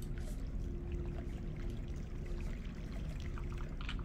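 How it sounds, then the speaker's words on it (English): Flowing water in a Portal 2 pool-room level pours steadily, a constant rushing, splashing wash with no pauses, fairly faint overall. "God, that water is so loud."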